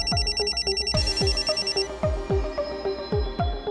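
A telephone rings with a bright electronic ringtone, repeating short rhythmic trills close by and loud, with no one speaking.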